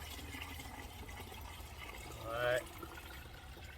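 Rainwater pours from a container into a barrel as a steady wash of water that runs under the whole moment, with a brief spoken word from someone nearby.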